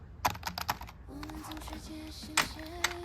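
Quick clicky keystrokes on a computer keyboard come in a short burst at the start, then a few scattered clicks over a faint tonal background.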